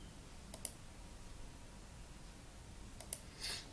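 A mouse clicks in CAD software during a gear design, giving a few sharp, quiet clicks, one early and a quick cluster near the end, over faint room hiss.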